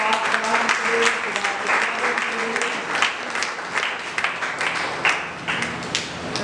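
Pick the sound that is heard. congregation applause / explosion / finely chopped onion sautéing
congregation applause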